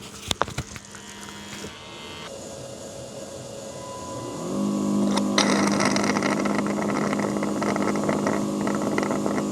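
An M40 robot vacuum cleaner starts its cleaning run indoors: after a few clicks, a steady motorised hum and whir builds, growing louder midway and then running continuously up close.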